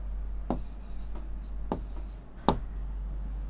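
A teacher writes words on a classroom board, giving a few sharp chalk taps and strokes against a steady low hum.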